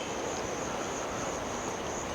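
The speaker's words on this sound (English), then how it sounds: "you can probably hear crickets or cicadas or whatever they're called going off" Crickets or cicadas in dense Gambian jungle, a continuous high-pitched insect buzz that stays steady and fairly faint across the whole stretch, with no voices.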